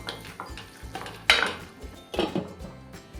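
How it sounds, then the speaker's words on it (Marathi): Spiced vegetable curry being mixed in a pan, with a spoon clattering and scraping against the metal in a few distinct bursts over quiet background cooking sounds. "मसाले घातल्यानंतर आपण हे मिक्स करून घ्यायचं आहे"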